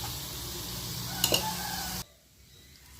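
Chicken sizzles in a hot pan for a couple of seconds with a brief scrape of stirring, then the sizzling drops away to near silence.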